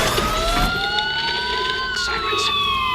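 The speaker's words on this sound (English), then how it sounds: "Sirens. The police." Police sirens wail in the Batman: Arkham Asylum video game, several overlapping rising and falling tones sounding steadily over a rumbling background throughout.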